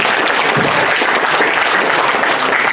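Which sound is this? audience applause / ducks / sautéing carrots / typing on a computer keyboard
audience applause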